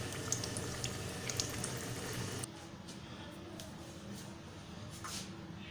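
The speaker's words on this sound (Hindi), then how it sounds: "आपने इसमें ऐसे डाल के इसको फ्राई कर लेने हैं" Potato kebabs, aloo cutlets, frying in hot oil: a steady, close, dense sizzle that runs loud for a couple of seconds, then continues at a softer, more even level with no talking.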